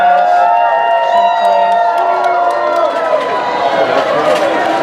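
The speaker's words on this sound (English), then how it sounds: "They're cheering because they made their goal." Factory workers in a phone assembly plant cheer and whoop together as a group. The cheering is loud and continuous, with shouts and calls layered over a busy, echoing hall.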